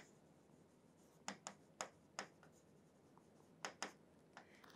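Handwriting with a pen on paper during an English exam lesson, quiet scratchy strokes in short bursts with pauses between them, close and faint, no speech heard.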